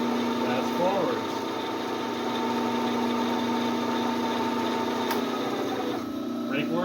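A Bridgeport milling machine runs forward with a steady, even motor hum and mechanical whine, holding constant with a faint rise of clatter near the end.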